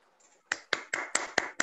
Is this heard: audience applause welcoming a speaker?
yes